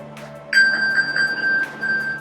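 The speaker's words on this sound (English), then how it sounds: "the ability to ping my iPhone from my watch" An iPhone pings after being triggered from an Apple Watch, sounding as a bright, sustained electronic tone that enters about half a second in and repeats steadily in close, clear pulses with no talking over it.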